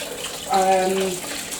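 Tap water runs steadily while something is rinsed by hand, a close, continuous splashing gush with a brief voice-like tone mixed in.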